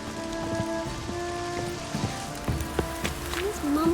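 Steady patter of rain falling in The Witcher 3, a constant wash of drops on surfaces with a few sharper splashes and faint background sounds in the game world.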